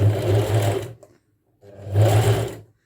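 A loud heavy-duty sewing machine stitching a rope basket runs in two close bursts of steady mechanical whirring, separated by a brief pause.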